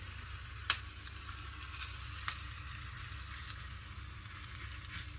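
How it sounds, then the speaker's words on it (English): Channa dal and curry leaves fry in hot oil with a steady, soft sizzle, broken by a couple of sharp spattering pops; no one speaks. "wait until they are all like nicely fried, then add the curry leaves."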